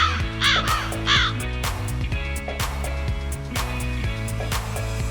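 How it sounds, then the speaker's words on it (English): Two crows caw in quick succession near the start, loud and close, over a steady musical backing that continues to the end. "Crow."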